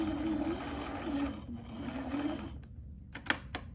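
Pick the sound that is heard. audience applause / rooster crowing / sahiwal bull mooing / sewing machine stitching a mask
sewing machine stitching a mask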